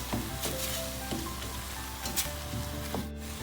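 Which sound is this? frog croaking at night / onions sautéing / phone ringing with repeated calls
onions sautéing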